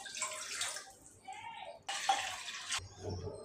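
Water pours into a pot on a stove while cauliflower pakora is being made, with two separate gushing pours splashing close by, a brief pause between them and a quieter tail at the end.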